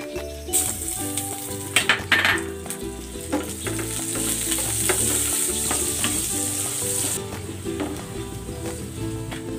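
Butter and garlic sizzle in a frying pan, a bright continuous hiss that stays steady and close, with a few clinks and scrapes of a utensil early on and no talking.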